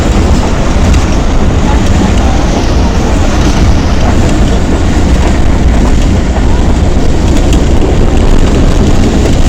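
A passenger train runs along the railway line between Gujrat and Lahore, making a loud, constant rumbling roar heard from on board with no break.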